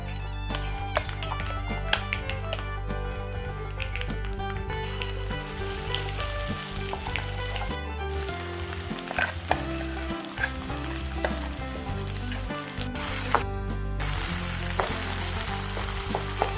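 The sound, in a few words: frying coriander chutney ingredients in oil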